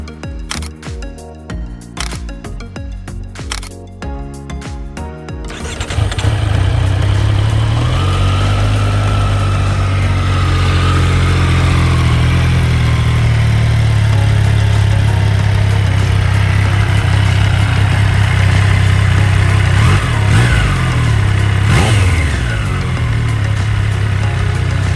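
A 2021 Triumph Street Triple R Low motorcycle fires up after a few seconds of handling noise, then settles into a loud, steady close-up idle with a couple of brief revs near the end.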